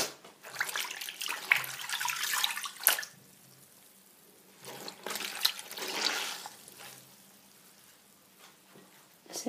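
Water running and splashing while a pillowcase is washed by hand a second time, in two bursts of sloshing separated by a quieter pause.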